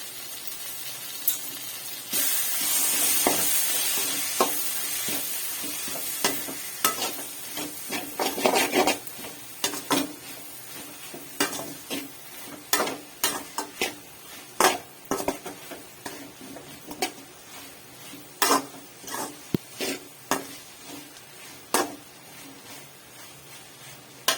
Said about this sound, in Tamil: எல்லாத்தையும் சேர்த்து நல்லா கொஞ்சம் கிண்டி விட்டுக்கலாம்